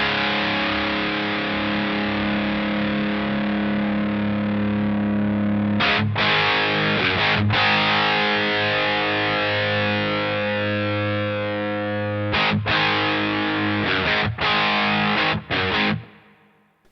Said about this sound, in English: let me put some amp distortion in here.